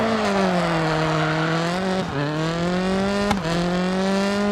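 A Citroen C4 rally car in a racing video game holds a steady, high engine drone, with two brief dips where the gears shift before the revs climb again, loud and close throughout.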